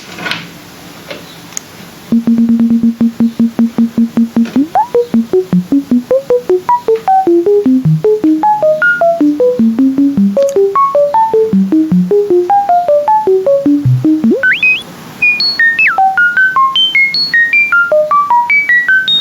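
ARP 2600 modular synthesizer sample-and-hold bleeps routed through the filter, stepping through random pitches in a steady rapid rhythm, starting on one repeated note, loud and electronic, with no voices.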